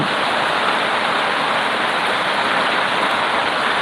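Heavy rain pours steadily in a loud, continuous hiss, with no voices or other sounds.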